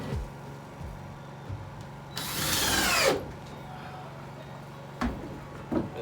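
A power drill drives tin screws into clear corrugated plastic on an outdoor kitchen build. Quiet handling knocks give way to one loud, whirring burst lasting about a second, then scattered taps.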